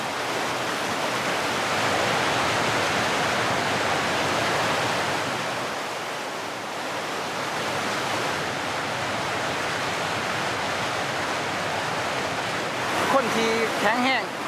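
Rushing river current pours steadily and loudly throughout, a dense broadband wash beside a spot where a heavy trap is being set, with a brief voice near the end.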